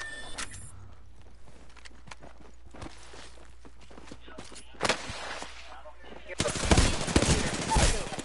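Sniper rifle fire in the battle-royale shooter Apex Legends: sharp, loud shots stand out over quiet footsteps and game ambience, ending in a heavier, sustained stretch of gunfire.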